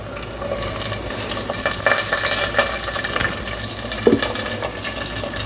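Onions, green chillies and curry leaves fry in a pan, giving a steady close sizzle with stirring scrapes and small clatters throughout, and no voices.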